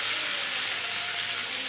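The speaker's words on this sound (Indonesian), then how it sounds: "kita tinggal kasih goreng-goreng saja sedikit supaya dia wangi dengan bawang putih" Beef frying with garlic in a pan while cooking Hokkien fried noodles, a steady close sizzle with no talking.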